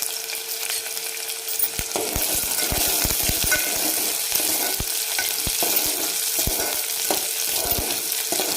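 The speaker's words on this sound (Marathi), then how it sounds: "हा एक मध्यम आकाराचा कांदा असा जाडसरच कापून घेतला, तो टाकू आपण आणि छान ह्याला थोडासा तांबूस होईपर्यंत परतून घ्यायचा" Chopped onion pieces sautéing with cumin in a hot pan, a steady hiss of sizzling oil broken by repeated sharp scrapes and taps of a spatula against the pan.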